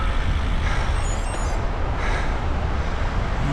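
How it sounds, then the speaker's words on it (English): Truck traffic passing through the town of Bédoin at the foot of Mont Ventoux, a steady loud rumble of engines and road noise filling the whole stretch, with faint tonal beeps from a reversing vehicle. "Already there's traffic."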